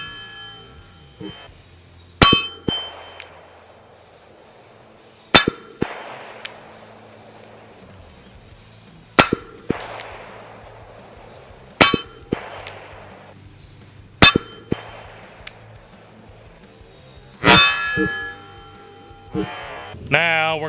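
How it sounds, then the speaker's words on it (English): Pistol rounds ring off an AR500 steel plate at an outdoor range: sharp metallic clangs land about every two to three seconds, each followed by a short ringing decay, with faint voices in the background. "I'm surprised at how much this pistols are swinging this steel here."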